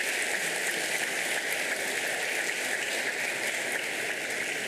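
An audience applauding at a formal ceremony in a municipal chamber, dense continuous clapping that stays loud and even throughout, with no voices over it.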